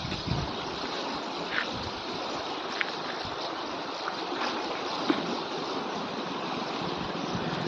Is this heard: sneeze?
no